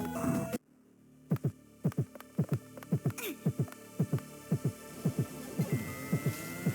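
Low-health heartbeat warning in the video game Scurge: Hive, a steady rhythmic double thump repeating about once per second over a faint hum, following an abrupt cutoff of a louder sound.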